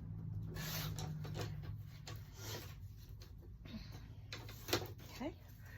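Paper being trimmed for a 9 by 9 scrapbook, a few soft rubbing, rasping slides and light cuts, close and faint, with brief talk around them.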